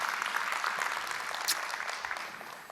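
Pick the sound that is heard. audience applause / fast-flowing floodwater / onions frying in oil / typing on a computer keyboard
audience applause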